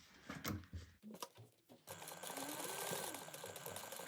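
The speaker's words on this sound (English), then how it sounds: "we're going to baste this together at 1/8 of an inch" Sewing machine basting bag fabric at a 1/8 inch seam, a few short stitching bursts followed by a steady close whirring run of the motor and needle.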